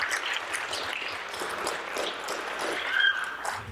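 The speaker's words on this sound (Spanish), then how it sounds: "Recibámosle con un fuerte aplauso." An audience at a conference on including people with autism gives strong applause to welcome the speaker. The clapping is dense and steady throughout, with a faint ping near the end.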